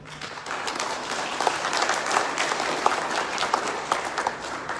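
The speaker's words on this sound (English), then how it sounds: "another round of applause for the keynote" Moderate applause for a keynote speaker at the launch of Samoa Energy Week, scattered claps rising out of a steady patter, with faint background voices.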